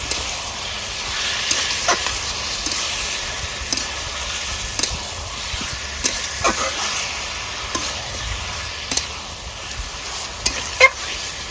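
Ginger garlic paste fries in a pan, making a soft, continuous sizzle and hiss, broken by repeated scraping taps as it is stirred close by, no voices.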